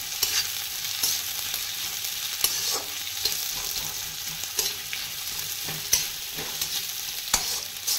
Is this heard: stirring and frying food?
yes